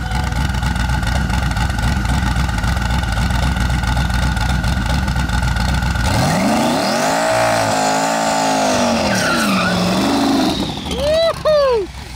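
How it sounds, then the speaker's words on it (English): Adam LZ's racecar, nicknamed the McFlurry, idles loudly up close, then revs hard into a burnout, its engine note rising and wavering with tire squeal near the end. "Adam LZ about to do a burnout in the McFlurry and make a rip"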